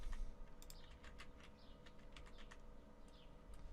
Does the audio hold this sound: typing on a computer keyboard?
yes